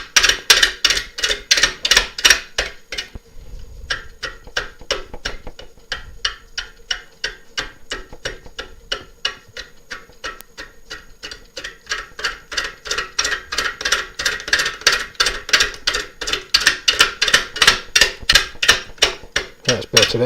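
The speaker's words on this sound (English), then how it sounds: "I'm just going to let the gouge take what it wants from this side." Monkey puzzle end-grain bowl on a wood lathe being cut with a gouge, giving a loud, fast, regular chattering tick as the cutter strikes the spinning wood, slowing briefly in the middle before picking up again.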